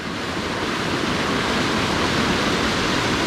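River rapids on Hat Creek rush in a loud, continuous broadband roar of churning whitewater, steady and close with no pauses.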